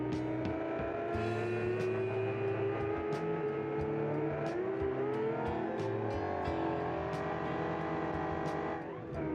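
GT car with a big engine driven in BeamNG Drive, a steady sustained engine drone with rising and falling pitch as it accelerates along a track, loud and continuous without talk.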